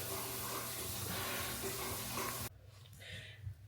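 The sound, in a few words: water running in the shower while washing hair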